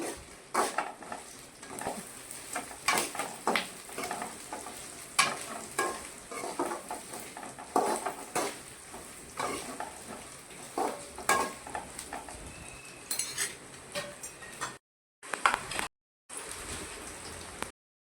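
Vegetables and a few dry red chillies fry in oil for a vegetable kurma, a soft, continuous sizzle broken by repeated scraping and clinking stirs of a utensil against the pan, close and without speech, with short silent gaps near the end.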